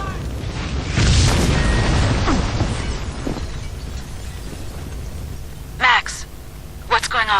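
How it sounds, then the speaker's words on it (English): Building full of explosives blowing up in the video game Max Payne 2: a loud, deep boom with a long rumbling, crackling roar that slowly fades, followed by a few brief sharp bursts near the end. "The building's blowing up."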